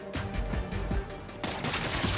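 Rapid gunfire in the video game Marvel's Spider-Man: Miles Morales, a loud burst of repeated shots in a steady rhythm that gets harsher and brighter halfway through, with no talk over it.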